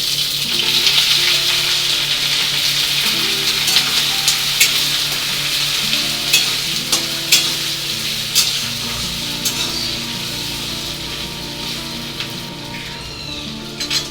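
Panch phoron, whole garam masala spices and grated ginger with bay leaf frying in hot oil, a steady close sizzle and crackle with occasional stirring clinks throughout, no voices.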